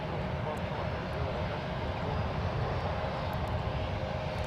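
Lufthansa Boeing 747-8I jet airliner at San Francisco International Airport, a steady broad engine roar heard from a distance, continuous and even, with a voice speaking over it.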